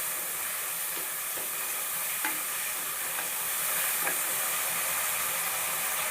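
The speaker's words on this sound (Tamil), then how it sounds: "நல்லா வதங்கட்டும்." Brinjal pieces fry in hot oil with a continuous close sizzle, while scattered stirring clicks and scrapes of a spoon in the pan sound throughout.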